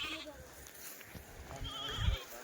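A Kathiawari dairy goat bleats faintly amid low background noise, the call swelling briefly near the end.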